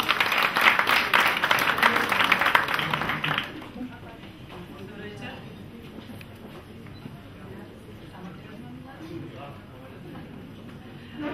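An audience at an evening philanthropy event claps together, loud and dense, for about three seconds before the clapping stops and quiet room noise and talk follow.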